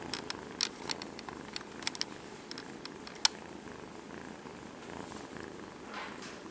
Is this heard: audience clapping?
no